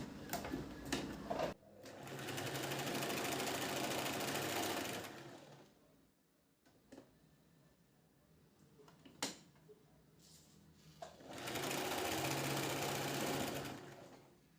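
A sewing machine stitches the inner side of a princess-cut blouse, running in two long steady bursts with a quiet pause between them, marked by a few sharp clicks and handling noises.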